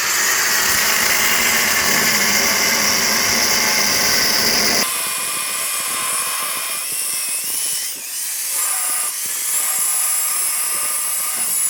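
Power tool slicing through a section of an FJ Cruiser body in a custom shop, a loud, harsh sustained grind for about five seconds that drops away to a quieter engine-like hum with scattered clatter.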